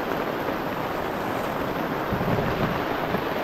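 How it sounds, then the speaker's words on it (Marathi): Heavy monsoon rain pours during a mountain fort trek near Matheran, a dense, constant roar of falling water filling the air without pause, close and loud, with no voices. "पाऊस बघा कसलो येलो तो बघा."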